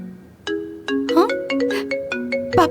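A phone ringtone for an incoming call, a loud electronic melody of bright tones and chimed notes playing close up with no talk over it.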